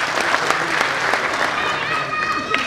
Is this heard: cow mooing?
no